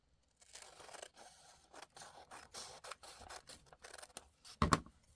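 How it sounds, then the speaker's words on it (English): Scissors snip through folded paper pieces for Christmas junk journal packaging, with quiet close-up cuts in an irregular rhythm and a louder clunk near the end. "And cut out these folded pieces."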